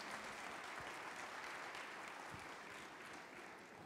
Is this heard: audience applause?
yes